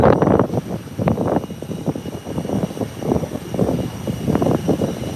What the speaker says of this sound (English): And here comes American Airlines. Heading down the runway.